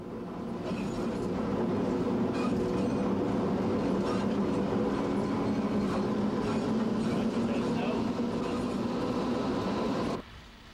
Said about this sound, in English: We have a view from the loco's cab, its long and heavy train snaking behind.